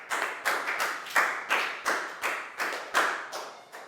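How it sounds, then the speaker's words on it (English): Rhythmic clapping from a small group in a Year 4 maths classroom applauding a student, a steady run of about nine evenly spaced claps close by. "Big round of applause for Pat"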